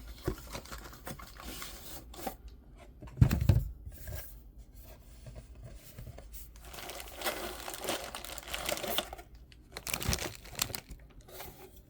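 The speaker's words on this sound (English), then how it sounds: "I can hear all the box opening ASMR, that's great." A cardboard box being opened for an unboxing gives close crinkling, tearing and scraping sounds in irregular bursts, with a few louder rustles and no talking.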